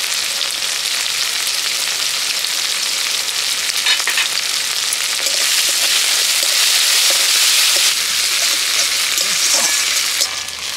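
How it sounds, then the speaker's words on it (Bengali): Prawns fry in potato-frying oil seasoned with turmeric and salt, giving a steady, loud, dense sizzle that swells slightly midway and runs alone without talk. "আলু ভাজার তেলের মধ্যে চিংড়ি মাছটা ভেজে নেব।"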